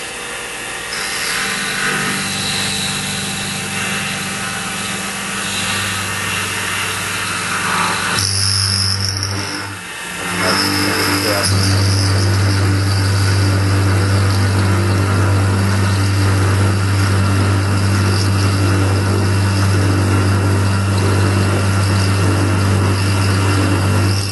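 Machining cut on a part for a Z-axis home switch, a loud steady machine drone with a strong low hum and cutting noise, a short pause partway through, then resuming louder, no talking.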